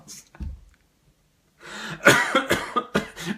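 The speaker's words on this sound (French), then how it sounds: "J'en tousse." A person coughs hard several times in a quick burst, close to the microphone, after a brief earlier cough and a pause.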